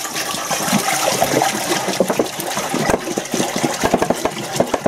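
Water glugs and splashes from a gallon jug into a large brewing pan, a loud, close, uneven gurgle with rhythmic bursts as the jug vents, and no talking.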